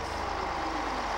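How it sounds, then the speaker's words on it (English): A bus in the PlayStation video game Theme Park drones loudly and continuously, a dense engine rumble with no pauses. "Why is that bus so loud?"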